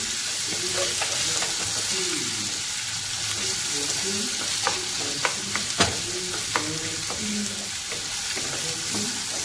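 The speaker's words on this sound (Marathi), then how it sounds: "आता करायला मोठा गॅसवरती आपण परतून घेऊ" Potato pieces stir-fried in a pan over a gas flame, a continuous loud sizzle with repeated spatula scrapes and a few sharp clinks, close and without talk.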